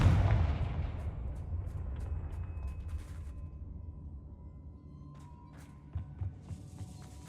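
A Confringo fire spell explodes in Hogwarts Legacy with a loud booming blast at the start, then a long rumbling decay with scattered smaller cracks and pops trailing off.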